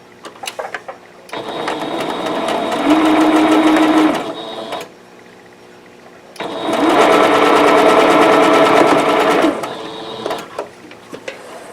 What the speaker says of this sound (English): then I'm going to sew from here to here